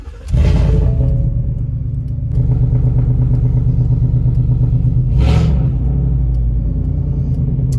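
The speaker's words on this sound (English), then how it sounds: "my exhaust is one of my favorite things on my truck" A 2018 Ford F-150 pickup idles with a loud, deep exhaust rumble that holds steady close by, swelling briefly twice as the engine is blipped, with no talk.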